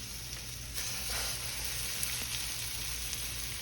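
Hamburger steaks searing in a very hot skillet give a steady, dense sizzle and hiss close up, with a low hum underneath and no talking.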